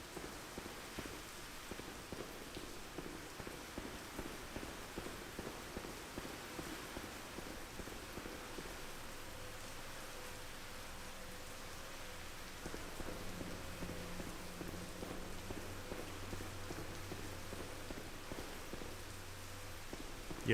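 Heavy rain pelts down steadily and loudly, a dense continuous hiss of drops on surfaces with no voices.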